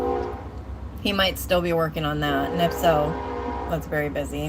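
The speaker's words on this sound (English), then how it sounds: "Sorry for the train." A train horn blares in long, drawn-out blasts under a person talking, the horn rising and falling over a low rumble.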